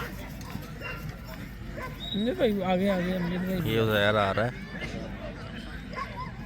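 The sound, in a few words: dog barking and whimpering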